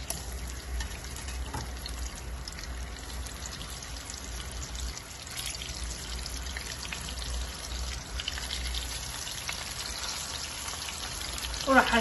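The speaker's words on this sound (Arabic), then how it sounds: "والسمك جاي يتقلى" Seasoned fish sizzling in a frying pan, a steady close hiss of hot oil with faint crackles running throughout without pause.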